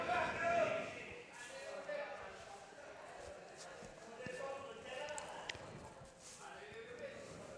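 Horses in a harness race trot with rhythmic clip-clop hoofbeats beneath an excited race commentator talking throughout.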